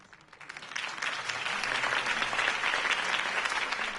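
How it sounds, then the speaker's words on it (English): A crowd breaks into applause after a campaign speech in the Batman Telltale Series game, swelling from a few claps into steady, dense clapping that carries to the end. "If only Mr. Wayne, my campaign's largest backer, could have heard that applause"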